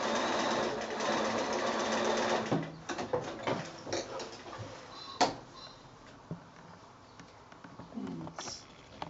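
A sewing machine runs in short bursts while back stitching the end of a seam on a small quilted bag made from 6-inch squares, its close whirring stopping and starting among a few faint clicks and handling knocks.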